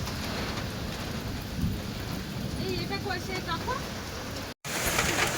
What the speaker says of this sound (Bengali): এইখান থেকে ঝাপটা এসে বারান্দাটা পুরো ভিজে যায়